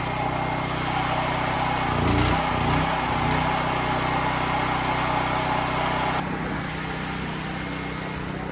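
An engine runs steadily on gasoline just after being switched over from propane, a constant mid-range drone with a brief rougher burst near the start, heard alone without talk.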